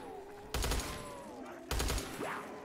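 Two loud, sharp gun blasts from a weapon in a first-person shooter game, spaced about a second apart, each with a short ringing tail, heard over a quiet background hum.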